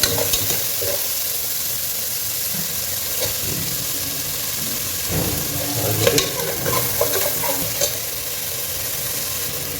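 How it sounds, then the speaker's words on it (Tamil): About 10 ml of mustard oil sizzles and spits in a pan with a continuous frying hiss, while occasional stirring scrapes and clinks sound close by. "மஸ்டர்ட் ஆயில் போட்டுக்கிறேன். ஒரு 10 ml போட்டுங்க."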